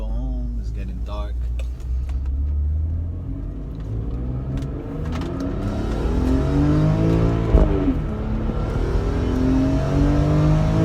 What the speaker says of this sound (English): And you hear that engine? It just sounds amazing.